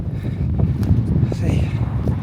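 Steady low rumble of wind buffeting the microphone at Mount Edgcumbe Country Park, constant throughout with no voices.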